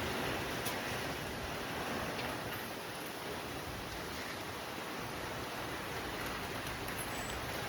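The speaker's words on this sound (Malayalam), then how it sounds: "അവസാനം മഴ പെയ്തു." Steady rain pours down in a constant, even hiss, close and fairly loud, with no voices.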